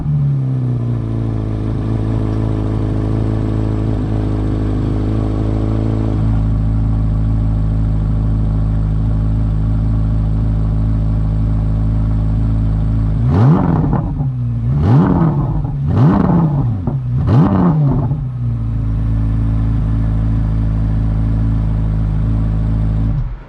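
A Chevrolet Corvette C8 Z06 sits idling in park with a loud, deep, steady rumble, then gets four quick blips of the throttle, each a sharp rev that rises and falls back before it settles to idle again.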